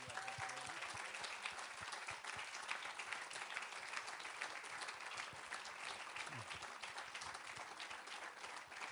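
Steady applause from a conference audience thanking the translators, a dense, even clapping that fills the whole stretch without pause.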